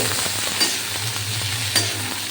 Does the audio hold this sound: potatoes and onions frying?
yes